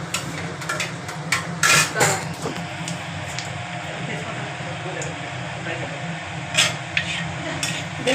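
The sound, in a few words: spices frying in a pan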